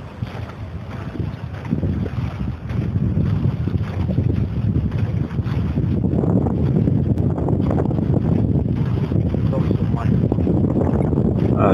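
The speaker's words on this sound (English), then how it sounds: "The wind is also mind-blowing. That's what I said, and that is really so. You can hear how it roars." Strong wind roaring and buffeting the microphone during inline skating on wet city pavement in Saint Petersburg, a loud continuous rush that swells and gusts throughout, with a voice talking underneath.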